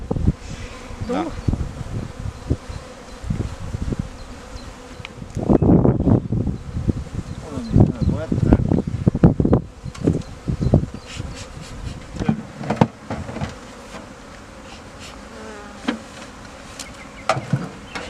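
Honey bees swarm around five beehives on the DS Smith Packaging site in Trois-Rivières, a dense, close buzzing with individual insects zipping past the listener, swelling louder midway and then easing off.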